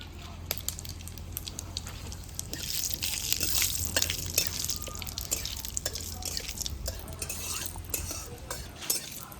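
Cinnamon, bay leaves, dried red chilies and whole cumin frying in oil, with soft sizzling under frequent light clinks and scrapes of a spoon stirring in the pan, fairly close and steady throughout.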